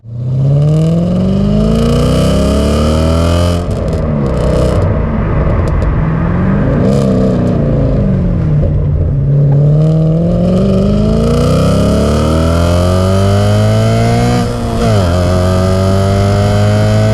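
Audi RS4 accelerating hard, a loud in-cabin engine roar climbing through rising revs with several gear changes, continuous throughout and with no talk.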